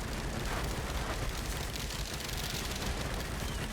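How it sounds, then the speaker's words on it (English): A dense, continuous roar of overlapping lightning explosions chaining together in the video game Risk of Rain 2, a loud unbroken wash of crackling blasts with no talk. "So many lightning explosions."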